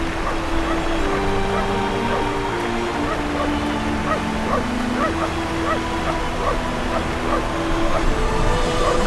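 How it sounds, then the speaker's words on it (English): A dog barks and yips in the adventure video game Syberia, repeated short barks over a steady layer of game ambience and music. "That dog does exactly as it pleases."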